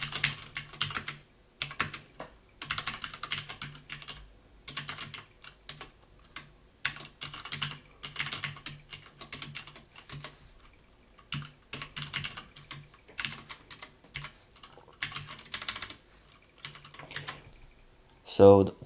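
Someone types code on a computer keyboard, with close, quiet bursts of rapid key clicks separated by short pauses and a louder thump at the end.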